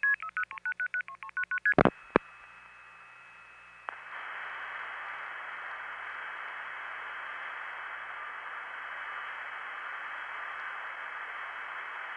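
Long distance tones from 1976 routed through a step tandem: a quick series of multifrequency dialing beeps, a couple of sharp clicks, then a steady hissing line tone that continues to the end.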